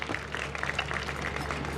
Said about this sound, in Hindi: सो जोरदार तालियां हो जाए